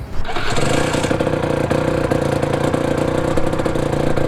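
A 125cc Rotax supermoto engine warms up in the pit lane at a go-kart track, a loud, continuous buzzing drone with steady revs that holds for the whole stretch.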